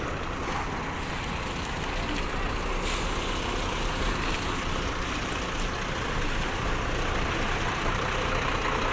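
Trucks idle in a queue waiting to board a ferry at night, a steady low diesel rumble with broadband noise and faint hiss, continuous and fairly distant with no clear voices.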